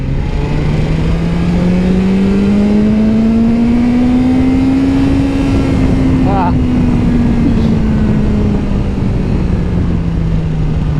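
A BMW S 1000 XR motorcycle engine pulls hard and steady without a gear change, its tone rising smoothly then easing off, loud and close with rushing wind throughout.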